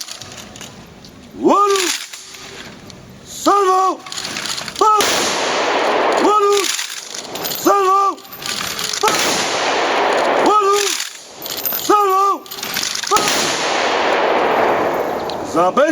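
Ceremonial honorary rifle volleys ring out at a patriotic celebration on the fields of Ossów. Loud sharp cracks repeat at regular intervals over the open field and echo afterward, with constant crowd and background noise between them.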